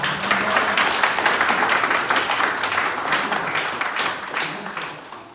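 Loud, steady crowd applause at a Korean politician's hometown report event, many hands clapping in a thick continuous roar that tapers off near the close.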